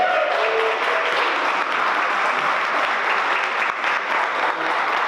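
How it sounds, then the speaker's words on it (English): Sustained applause from a gala audience at a university trustee associates event, a dense steady wash of many hands clapping throughout with no speech. "I was not expecting applause at that point"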